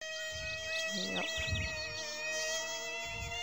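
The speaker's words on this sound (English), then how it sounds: "I hope it's not the buzzing sound of that bee, because that is honestly so annoying" A bee's buzzing sound effect in the Gahan Wilson Ultimate Haunted House computer game, a high wavering drone that rises and falls over a steady electronic tone, with brief low bumps of other sounds beneath.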